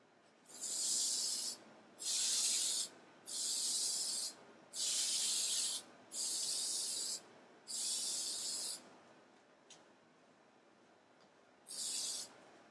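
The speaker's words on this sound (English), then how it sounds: "I'm going to do a very, very light pass of the spray" Spray paint hisses out in seven loud, evenly spaced bursts of about a second each in a light pass over a wooden table, with a longer pause before the last one.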